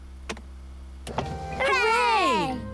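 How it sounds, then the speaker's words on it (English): A cartoon car's roof opening after a button press, a whirring motor-like sweep with a rising and falling mechanical tone lasting about a second, preceded by two short clicks. "Can we open the roof again?"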